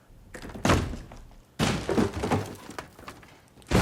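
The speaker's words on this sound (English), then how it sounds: "The door just disintegrates." A wooden door is smashed apart in a Walking Dead: Dead City episode, with heavy thuds and cracking splinters in several loud bursts, one near the start, a big crash midway and another hit at the end.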